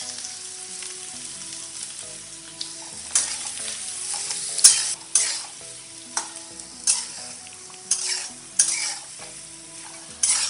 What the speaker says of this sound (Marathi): आपण बटाटे चांगले परतून घेऊया.